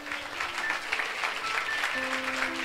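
A church congregation applauds during a Friday worship service, steady moderate clapping from many hands with sustained tones, likely music, running underneath.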